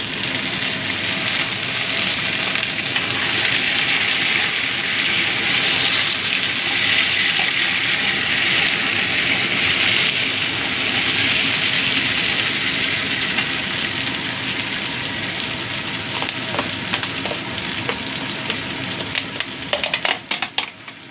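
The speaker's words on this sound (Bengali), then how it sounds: "পেঁয়াজটা ভাজা হয়ে গেছে, এবার আমি টমেটো কুচিটা দিয়ে দিলাম।" Chopped tomato tipped onto browned frying onions for mutton kima with jackfruit, giving a loud, continuous sizzle and watery hiss, with scattered pops and clicks toward the end.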